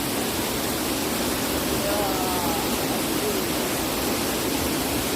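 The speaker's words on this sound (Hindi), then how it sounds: "तो देखो वाटरफॉल कैसे है।" Tekra waterfall, a dense, steady roar of falling water filling the whole clip at constant loudness, with a faint voice briefly audible beneath it.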